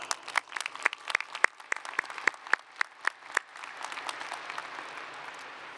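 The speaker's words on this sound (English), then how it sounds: "giving them a loud round of applause" Families and friends of graduates at a high school graduation ceremony give a round of applause, with sharp, distinct claps at first, then a denser, steadier patter that carries on to the end.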